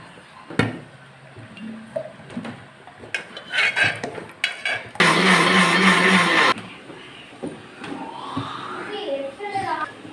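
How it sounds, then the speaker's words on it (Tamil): Mixer grinder blending a thickened pistachio ice cream mixture, running loud and steady for about two seconds in the middle, framed by clinks of dishes and utensils and some talking. "இதை வந்து நம்ம மிக்சியில் போட்டு பீட் பண்ணுறோம்"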